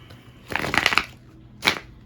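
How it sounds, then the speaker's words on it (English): A deck of playing cards is shuffled close by in two quick bursts of riffling and slapping, the first longer and the second brief, set against quiet room tone. "Let me put this back, because I didn't get to shuffle. I was still shuffling."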